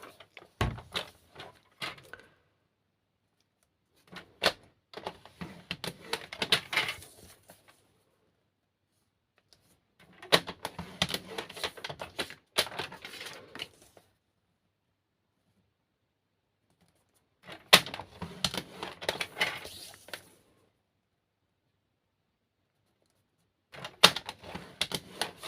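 A tool scores fold lines into paper for a scrapbooking gift box in repeated bursts of scraping and clicking, each a few seconds long, separated by silent pauses, close and fairly quiet with no talking.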